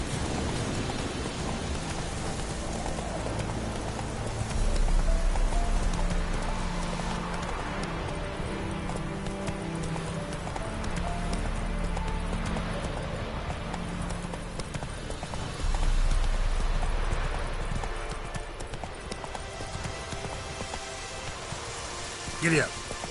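A horse gallops in The Witcher 3 on PS4 with a steady clip-clop of hooves, mixed into a constant hiss of rain and game ambience. Low rumbles swell twice, and a voice is faintly present.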